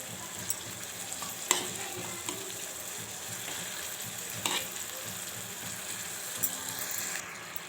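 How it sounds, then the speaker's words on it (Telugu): Moong dal tipped into a pan of frying spices and chili powder is stirred through, a steady hiss of sizzling oil broken by sharp scrapes and clinks of the spoon against the pan, with no talking. "ఇలా మొత్తం పప్పు వేసేసుకొని ఒకసారి కలిపేసుకోవాలి."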